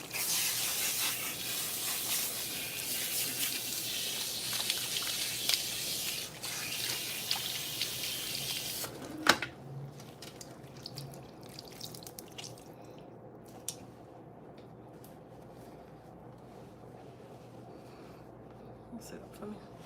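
Water sprays steadily from a salon sink nozzle while hair is rinsed, a broad hiss that runs loud for about nine seconds and then cuts off, leaving quieter room sound with faint drips and voices.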